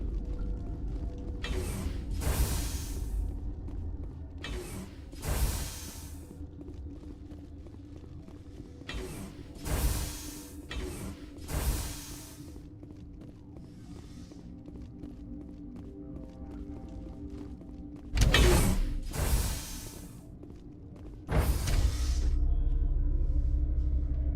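An elevator ride in Mass Effect Legendary Edition gives a low mechanical hum with creaks and ratcheting clunks, broken by several sharp bursts of noise, then a louder steady drone at the end.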